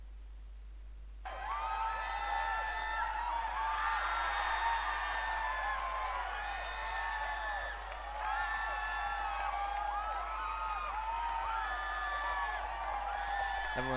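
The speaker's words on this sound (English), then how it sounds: "Everyone erupts into applause for the president." Audience applause for the president at an inauguration, starting abruptly and holding as steady, moderately distant clapping, with a low constant hum beneath.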